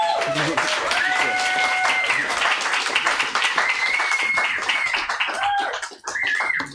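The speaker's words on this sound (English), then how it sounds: "Please give a round of applause to Nathan Xavier Osorio." Audience applause at a poetry reading of San Fernando Valley poets, a dense, steady wash of clapping that fills the room, with musical tones sounding underneath and the applause thinning at the end.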